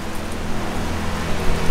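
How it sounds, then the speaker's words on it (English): Steady rain falls on a hot, humid Thanksgiving day in Florida, a dense even hiss of drops on surfaces that runs alone and unbroken throughout. "It's raining."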